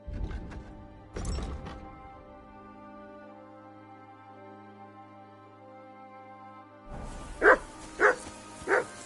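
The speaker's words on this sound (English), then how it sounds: "Whistle up that mutt of yours. Come and here. Stop barking." A dog in the medieval video game Kingdom Come: Deliverance II gives three clear, evenly spaced barks near the end, after a quiet droning stretch with no talk.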